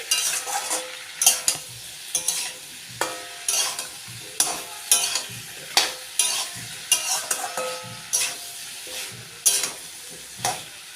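Poppy seed paste (posto) for aloo posto being stir-fried in a pan: close, rhythmic spatula scrapes and stirs, roughly a dozen strokes, over a continuous soft sizzle, with no talking.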